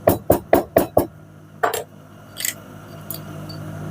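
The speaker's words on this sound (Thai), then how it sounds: "แล้วเราก็มาตอกตะขอนะครับ" Five quick, sharp metallic taps in an even rhythm as a metal trouser hook is hammered onto a waistband, then a couple of scattered knocks and a brief rustle, close and clear.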